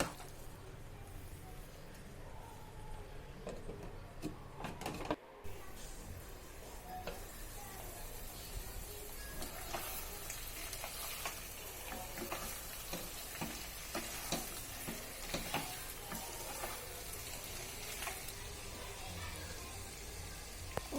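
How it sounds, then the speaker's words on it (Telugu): Brinjal and cashew curry cooks in a covered pan, a steady soft sizzle and bubbling with occasional faint stirs or ticks, continuous and fairly quiet throughout. "వీటన్నిటిని బాగా కలిపి మూత పెట్టి వంకాయలు సాఫ్ట్ అయ్యే వరకు కుక్ చేసుకోవాలి."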